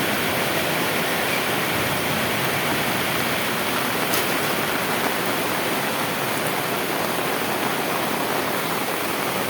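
Steady rain falls outdoors among trees as runoff water flows downhill from higher ground, making a dense, even wash of hiss and trickle that stays constant throughout, with no voices.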